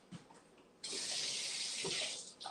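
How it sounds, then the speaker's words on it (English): Tap water runs hard into a sink for a couple of seconds as something is rinsed off during keto toast preparation, a loud steady splash that starts abruptly after quiet handling sounds. "Let me rinse this off."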